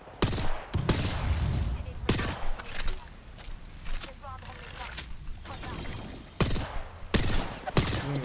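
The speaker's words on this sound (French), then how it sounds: "J'essuie des tirs." Incoming gunfire in a video game cracks in sharp bursts, a mix of single shots and rapid volleys at moderate level, with brief mechanical clatter between them and no talk over it.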